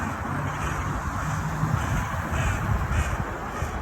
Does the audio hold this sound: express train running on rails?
no